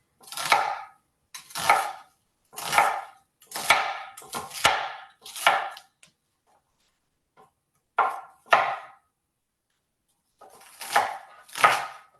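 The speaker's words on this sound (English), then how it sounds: "I'm just going to chop up, let's move this out of the way. Chop up my onion." A knife chops an onion in quick bursts of crisp, close strokes, separated by short pauses and one longer quiet gap, with no talking.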